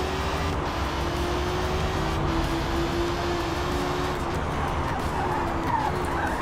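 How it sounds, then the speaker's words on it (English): Car brakes pulsing and chattering over a bumpy road surface in the Forza Motorsport racing game, with slight lockup, a steady rumbling engine drone and a juddering texture running continuously throughout. "the road's really bumpy there, so the brakes are kind of pulsing. It sounds like ABS"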